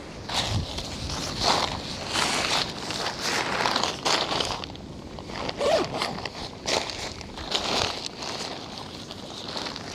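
A zipper is run repeatedly along a checked bag packed with a surfboard and kiteboarding gear, giving close, rasping pulls in bursts with rustling and shuffling between strokes.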